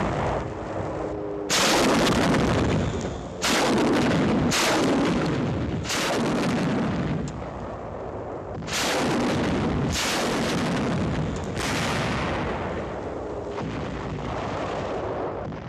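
Naval shore bombardment during a December 1944 amphibious landing: loud, repeated heavy artillery blasts and explosions, each sharp boom followed by a long rumbling decay, roughly every couple of seconds over a constant dense roar.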